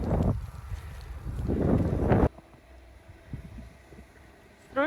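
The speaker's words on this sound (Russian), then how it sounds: "Просто ветер." Gusty wind buffets the microphone during a snowy winter walk, with loud rumbling roars for the first couple of seconds, then a calmer, quieter stretch and a fresh gust at the end.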